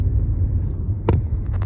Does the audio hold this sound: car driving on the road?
yes